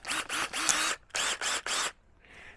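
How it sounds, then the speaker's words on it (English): A DeWalt cordless screwdriver with a 3-amp battery spins a medium tire-cleaning brush in bursts, whirring loudly several times with brief pauses between, close up, followed by a softer tail. "you get your cordless screwdriver."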